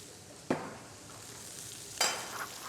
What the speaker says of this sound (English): What I use is a lot of olive oil.